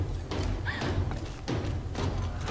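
Several heavy, booming thuds from a shotgun firing in the Tomb Raider video game, loud and close, spaced about a second apart over a low rumbling background.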